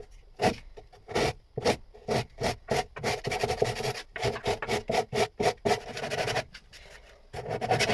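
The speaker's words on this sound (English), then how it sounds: "I'll sand this all the way completely" Long board sanding on a Shetland boat hull, rhythmic back-and-forth rasping strokes, close and steady, with a short pause before the strokes resume.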